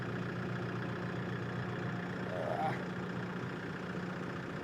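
Kioti RX6620 diesel tractor engine running low on fuel, a continuous moderate idle hum with a faint rise midway, the engine sounding rough and close.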